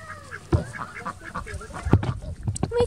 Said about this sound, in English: We got two ducks now.